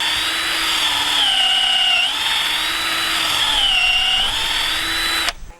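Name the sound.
drilling a hinge hole in a farm gate post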